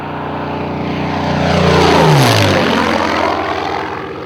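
Soviet WW2-era Yak-3 piston aircraft engine, a converted Yak-11 trainer airframe, droning loudly as it passes close by, with a clear pitch drop and swelling then fading roar over a few seconds.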